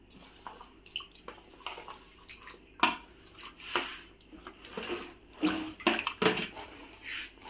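Raw potatoes for homemade fries being washed in a bowl of water, close-up sloshing, splashing and swishing in irregular bursts, with occasional clinks of the container and dripping between movements.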